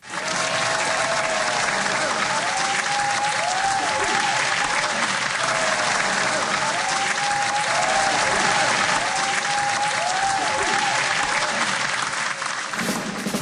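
Sustained thunderous applause from a large audience in Bhilai welcoming an arriving guest, dense and steady clapping throughout, fading slightly at the very end.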